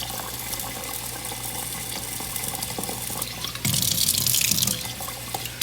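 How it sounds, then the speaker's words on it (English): Water pours steadily into a rice cooker pot for Jamaican curry shrimp, a continuous splashing stream that swells louder and brighter near the end, with no talking. "so I still got some more water I need to put in here to get it to the 4."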